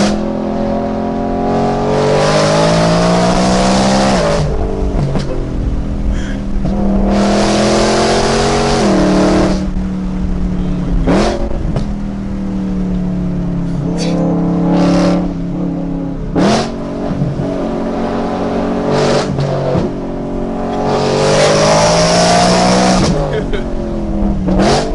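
A BMW M3 engine revs loudly and repeatedly on a canyon drive, surging up and down in long, close, in-car pulls, with people talking over it.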